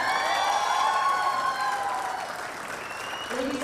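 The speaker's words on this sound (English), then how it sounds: "please put your hands together for a round of applause for the 10-meter air pistol men bronze medal winner" Applause from the crowd at an ISSF World Cup air pistol shooting event in Bhopal, India, steady clapping for the men's 10-metre air pistol bronze medal winner, with cheering mixed in and a voice over the crowd.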